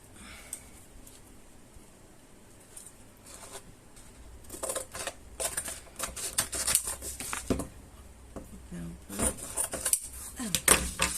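Paper is being cut for an accordion album cover, with intermittent crisp snipping and rustling strokes that grow busier and louder toward the end, close by and without speech.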